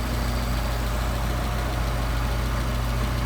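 A car engine idles steadily at about 700 RPM while its Solex carburetors are balanced, giving a constant, close, even rumble with a low throb and no talk over it.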